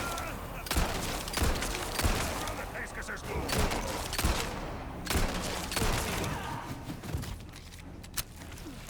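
Gunfire from a firefight in Resident Evil 4, with repeated sharp shots at irregular intervals, several loud cracks, over steady game noise with talking mixed in.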